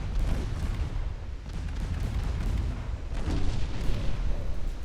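Torpedo hits exploding against warships in Ultimate Admiral Dreadnoughts rumble as overlapping deep booms, a dense, continuous roll of heavy blasts that swells and fades without a break.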